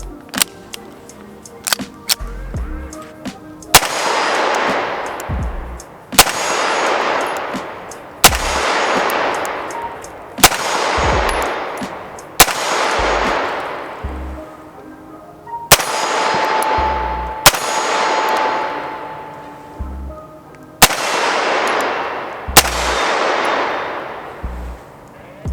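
A CZ Shadow 2 pistol fires in loud, sharp single reports at a range, spaced a second or more apart with ringing decay after each, in several short strings broken by pauses for reloading 10-round magazines.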